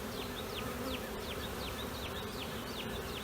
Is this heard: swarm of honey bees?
yes